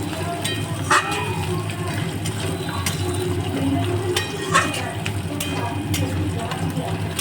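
Cooked red lentil dal is stirred into a banana stem curry in a pan, with close scraping and clinking of a spoon against metal and a low cooking sizzle, while someone speaks over it.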